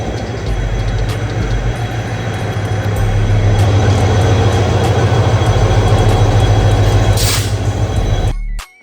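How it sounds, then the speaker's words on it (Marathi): A crowded passenger train arrives at Panvel station with a loud, continuous rumble of wheels and cars, building slightly, plus a brief high squeal near the end before the sound cuts off. "ट्रेन आले मित्रांनो"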